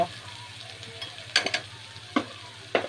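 Spices are sautéed in a pan for a Bengali water spinach curry. A soft, steady sizzle runs underneath, and a few sharp scrapes and clacks of a stirring spoon stand out at intervals.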